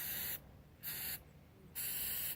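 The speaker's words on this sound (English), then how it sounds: "Now I actually clean this with brake cleaner." Brake cleaner sprayed from an aerosol can onto a sensor on a Jeep Wrangler JK CRD diesel, heard as three sharp hissing bursts with short gaps between them.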